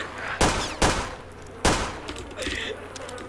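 Video game gunfire rings out as three sharp, separate shots followed by a few quieter pops, heard close and fairly loud.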